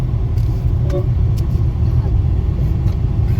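Grandfather's classic car rumbling steadily during the Dream Cruise, a continuous low engine drone close by with faint voices mixed in, no distinct revving bursts.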